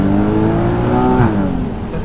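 A Porsche Boxster's 2.7-litre engine, the smallest in the range, sings loudly on a drive in a line of Porsches, its tone rising steadily, then dipping sharply at a gear change before building again.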